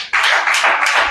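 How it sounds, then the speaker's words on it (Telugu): A congregation claps hands together in short bursts, roughly three rhythmic waves of close, bright clapping from a group gathered at a church sermon. "చప్పట్లు కొట్టండి అందరు."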